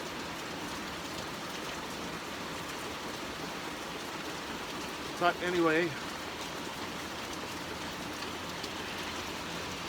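Heavy rain pours down steadily in a dense, even hiss, heard from a porch, with someone briefly speaking partway through.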